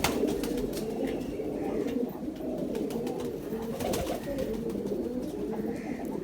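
Pigeons in a fancier's loft cooing continuously, with dense overlapping low throaty coos close by and steady throughout, no talk.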